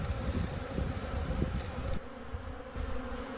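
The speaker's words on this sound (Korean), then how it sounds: "벌써 여왕벌이 있는 벌통 입구로 꿀벌들이 모여들기 시작했다" Honeybees gather at a hive entrance holding the queen after a swarm at a mountain honey farm, a dense, steady close buzzing that runs throughout.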